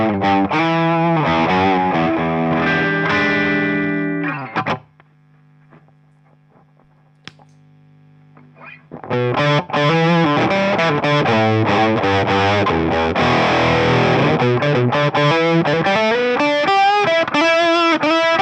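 Electric guitar through a Mythos Argo octave fuzz pedal plays loud, thick chords with a buzzing, saturated tone, drops to a near-silent pause with a low hum in the middle, then resumes with busier, driving playing.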